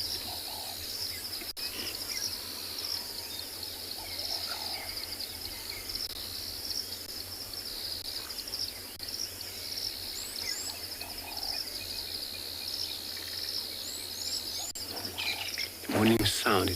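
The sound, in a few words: birds singing in the morning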